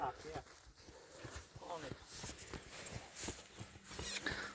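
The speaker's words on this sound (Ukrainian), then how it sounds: "Красивий красивий, гарний жеребець." Hooves of a horse clip-clop in an irregular walking rhythm outdoors at a farm with mares and foals, with voices talking over them throughout.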